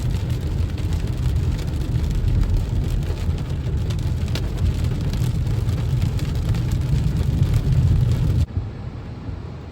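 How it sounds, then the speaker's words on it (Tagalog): Heavy rain pours down during a storm, a dense, steady hiss of drops drumming on surfaces that runs loud and unbroken until it cuts off abruptly near the end. "Lakas ng ulan."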